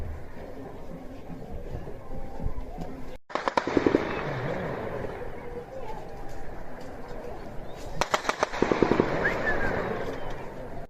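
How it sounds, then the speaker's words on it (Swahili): Gunfire crackles in eastern Congo in rapid bursts of sharp cracks, two clusters heard over a continuous noisy outdoor background at moderate level. "Milio ya risasi imeendelea kusikika kila siku licha michakato mbalimbali ya amani."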